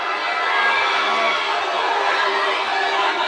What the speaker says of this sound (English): Crowd give you a cheer here